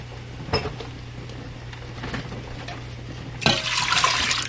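Vinegar for a sweet coleslaw brine is poured into a container in a home kitchen, with a few soft clinks early on, then a fuller splashing rush of liquid toward the end.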